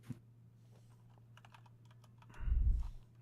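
Typing on a computer keyboard during a coding lesson, a run of quick light key clicks at close range, followed by a louder low thump near the end.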